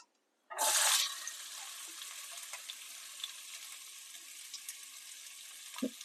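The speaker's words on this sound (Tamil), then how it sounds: "அந்த வெங்காயத்தை அதில் போட்டு வதக்குவோம்." Two finely chopped onions hit hot oil in a pan for a muttar paneer masala, setting off a sharp burst of sizzling. The frying settles quickly into a soft, steady crackle with scattered faint pops and a stir near the end.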